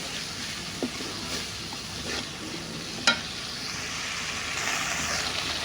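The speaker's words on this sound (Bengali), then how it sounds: "আমি লবণ হলুদ দিয়ে দিলাম। এবার দিয়ে ভালো করে নাড়াচাড়া করে কষিয়ে নেব।" Spices with salt and turmeric fry in a pan under a soft continuous sizzle, broken by a few light scraping stirs and one sharp clink from a utensil.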